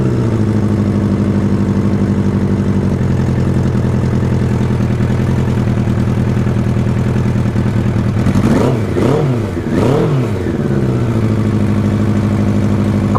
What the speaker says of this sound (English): Still got a little blown exhaust.